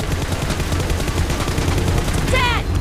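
Heavy, continuous gunfire from PUBG Mobile fills the scene with dense, loud bursts of shots, and a brief whistling effect rises near the end.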